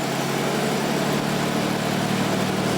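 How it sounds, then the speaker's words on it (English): A classic car's engine idles just after being started, a steady, continuous rumble that holds an even, moderately loud level with no revs or pauses. "always fire her up just to make sure she sounds as good as she looks"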